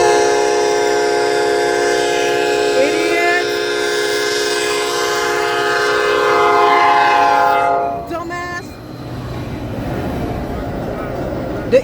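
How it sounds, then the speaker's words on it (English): A passing train blasts its horn in long, loud chords from close by, then the horn stops and the rumble and clatter of the railcars continue. "The engineer was honking the horn at him."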